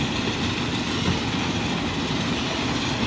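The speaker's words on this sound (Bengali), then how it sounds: "stone ক্যাশার mining machine" A stone crusher mining machine runs at a hillside quarry, giving a steady, loud, dense mechanical roar and rattle that never lets up.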